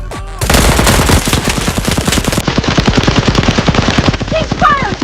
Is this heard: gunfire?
yes